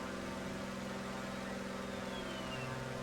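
Landing gear on a Grumman Goose G21A in a flight simulator moves slowly with an old-fashioned mechanical whine over a steady engine drone, plus a faint rising tone near the end.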